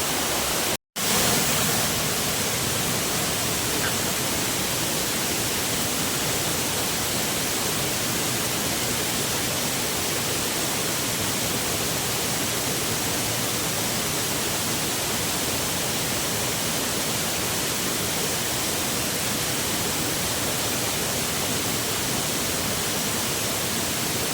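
Water pours steadily at the Bandhtivare waterfall near Dapoli, a dense continuous broadband rush that starts after a brief cut at the outset and stays constant throughout.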